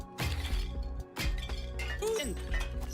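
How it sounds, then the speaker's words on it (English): Crashing, clinking smash impacts from a hammer breaking things in a video game, two or three loud bursts with shattering debris over a musical backdrop. "take the hammer, which, yeah, you guessed it, is great for smashing stuff"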